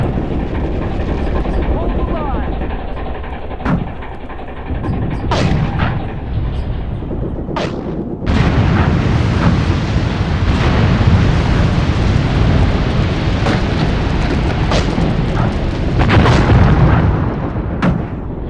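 HMC T-30 artillery pounds away in a WW2 desert battle video game, firing on German armor with heavy booming blasts and rumbling explosions, loud and close, with a sharper, denser barrage in the second half.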